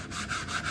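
A sanding block rubs along the routed wood edges of a budget DIY speaker kit enclosure (YTmac-05), making steady, close, rasping strokes in a repeating back-and-forth rhythm with no voices.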